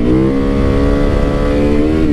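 Supermoto motorcycle engine revving hard and accelerating, a loud, steady, close-up drone with rising harmonics throughout.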